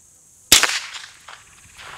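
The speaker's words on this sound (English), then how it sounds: "we're going to run through these four suppressors with that, three shots each" A .22 rifle fitted with a budget suppressor fires, producing one sharp, loud crack and a short decay, followed by fainter clicks and clatter.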